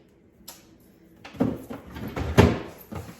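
A refrigerator vegetable drawer slides open with a plastic rattle and scraping bumps, fairly close, following a brief click, with no talking.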